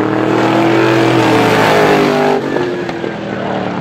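350 supermodified race cars roar around Star Speedway in a close battle for the lead, their engines a loud, steady, continuous drone that dips slightly near the end.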